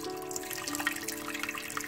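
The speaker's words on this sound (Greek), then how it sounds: "Βάλαμε το πιατάκι, ρίχνουμε και το νεράκι μας." Water is poured into a pot on a stovetop burner to make a double boiler for melting beeswax, a steady close-up splashing trickle lasting the whole moment with no talking.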